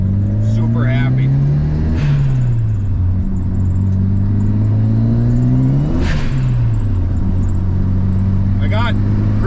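A 1997 Mitsubishi Eclipse GS-T turbo engine runs loud and close, its pitch climbing and dropping through two rev swells, with a voice talking over it.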